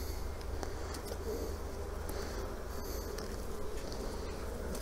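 Honeybees buzzing steadily and densely at an open hive, a continuous close swarm drone with no talk.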